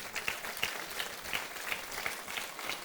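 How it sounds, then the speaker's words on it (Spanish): Congregation applauding at a Spanish-language church general meeting, a steady wash of clapping with scattered sharper claps throughout, moderately near and without talk. "Le dan un aplauso a Él que nos quitó lo religioso."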